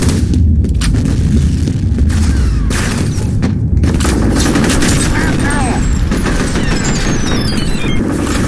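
Grenade blasts and dense gunfire in a F.E.A.R. firefight, heavy continuous booming and rapid shots, loud and close throughout, with voices shouting over the combat.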